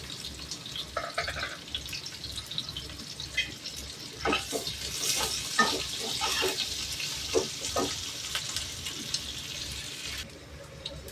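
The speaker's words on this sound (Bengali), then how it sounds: "দিয়ে দিচ্ছি রসুন, আর দিয়ে দিচ্ছি পেঁয়াজ" Garlic and onion frying in hot oil in a pan while wilted greens wait to follow, a steady close sizzle with scattered pops and scraping stirs, with no talking.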